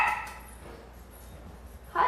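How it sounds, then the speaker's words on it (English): A small Yorkie foster dog barks indoors, a couple of short high yips at the start and end of a quiet stretch, fairly faint in the room. "our little foster dog that we have right now, barking in the background"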